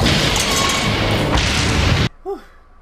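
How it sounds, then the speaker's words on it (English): A loud, dense animated explosion as a tank is destroyed in the Reboot cartoon roars for about two seconds and then cuts off abruptly, followed by a short faint tonal sound. "we get an awesome scene of Frisket destroying a tank"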